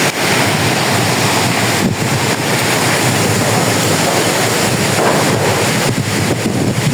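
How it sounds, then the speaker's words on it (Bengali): A strong storm wind roars continuously through trees in a rural Bangladeshi village, loud and close, with heavy buffeting against the microphone and no talking. "বাতাস পাগল হয়ে গেছে।"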